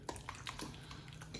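Eggs stirred by hand in a bowl while making a keto, gluten-free quiche: soft, wet scraping and light clinking taps that repeat unevenly, quiet and close, with no talking.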